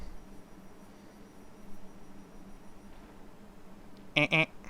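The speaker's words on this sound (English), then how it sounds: "Which is the sound of the" Quiet hum of a stationary BR Class 700 train interior on the Brighton Main Line, then a short two-part electronic door-closing warning tone sounds near the end.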